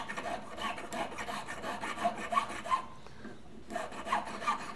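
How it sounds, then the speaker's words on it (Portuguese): A metal hand file rasping back and forth against a domed ring at a jeweller's bench, steady rhythmic scraping strokes close to the mic, briefly pausing before the filing resumes; no one speaks. "Eu vou limar até acabar o forro e chegar no meu anel"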